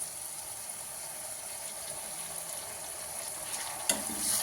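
Vegetables for veg noodles fry in a pan over a low gas flame with dark soy and red chilli sauces, a steady close sizzle with occasional scraping stirs and a sharp clink near the end.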